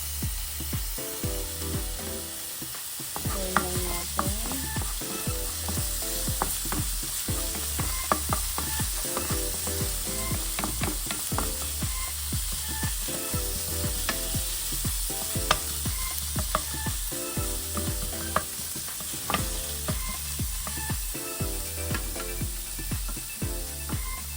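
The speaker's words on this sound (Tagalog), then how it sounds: "nailagay ko na yung garlic. Golden brown ko lang siya" Garlic, with onion to follow, sautés in hot oil for ginisang ampalaya, giving a steady, close, continuous sizzle and frying crackle throughout, with faint tonal sounds underneath.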